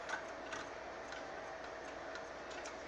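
An antique Ansonia mantel clock ticks steadily at a regular, even pace, each soft tick distinct against a quiet room with low background hiss and no voices.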